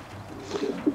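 Low, soft pigeon coos from a nesting pair of domestic pigeons, a few short murmuring phrases close by, quiet and rising slightly toward the end.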